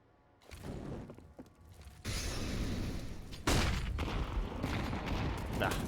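A grenade stack thrown during a professional Counter-Strike match on the Vertigo map, with a string of bursts and metallic clatter that build in loudness, a sharp louder blast partway through, and dense chaotic noise from the game after it.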